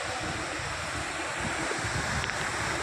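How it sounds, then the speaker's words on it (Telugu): A continuous, loud roar of water falling from a village waterfall into a stone-walled pool, steady and broadband with no pauses. "అది వాటర్ పైనుండి చాలా బాగా కిందకు వాటర్ పడుతున్నాయి"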